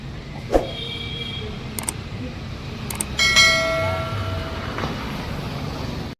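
A train passes near a railway station: rumbling rail noise throughout, a couple of sharp metallic clanks, and sustained horn-like tones rising midway before fading.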